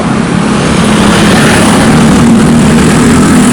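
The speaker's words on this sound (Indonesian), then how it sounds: "banyak mobil Mas Bro, banyak motor, rame" Heavy road traffic roars loudly and continuously close by, a dense low drone of fast cars and motorbikes passing without a break.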